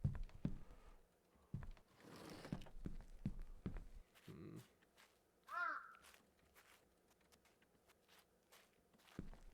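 A single bird caws once in the Atama video game, with a short rising call at mid-distance, set among soft footsteps and scattered clicks in an otherwise quiet game scene.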